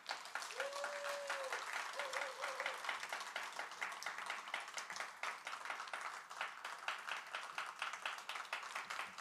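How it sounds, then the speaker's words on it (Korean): Sustained audience applause fills a church installation ceremony for a unification prayer movement's new standing committee chair, steady dense clapping throughout with a brief voice or tone briefly audible near the start. "다시 한번 세 분께 예, 감사의 박수를 좀 보내주시고"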